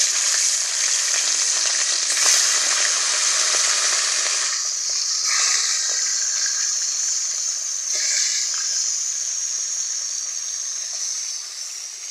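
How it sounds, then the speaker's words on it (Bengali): Fish frying in hot mustard oil in a covered pan, a loud, steady sizzle and hiss close by, with a few brief crackles and shifts in tone as the fish cooks. "আর এই মাছ ভীষণভাবে ফাটে বলে আমি এই যে চাপা দিয়ে দিচ্ছি।"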